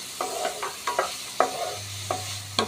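Onion with green chili and a pinch of salt is sautéed in a pan, giving a gentle sizzle punctuated by a handful of spaced spatula scrapes and taps, close and quiet.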